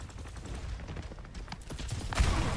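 Rapid gunfire from a video game shootout crackles as a steady stream of quick shots in the background, rising into a louder burst near the end.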